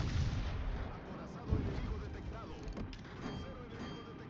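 Naval gunfire from a warship in World of Warships, a single non-burst volley of heavy booming shots over a dense, rumbling game soundscape, with a sharp report near the middle.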